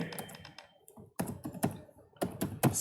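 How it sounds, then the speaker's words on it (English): Typing on a computer keyboard while writing a Python print statement: quick uneven bursts of clicking keys, close and fairly soft, broken by short pauses. "Now I am typing same statement."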